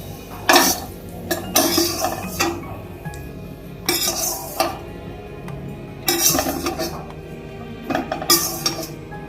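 Pineapple rava kesari with raisins being scraped from a pan into a bowl: a series of clinking, scraping metal-utensil strokes in separate bursts, fairly close, with no one talking.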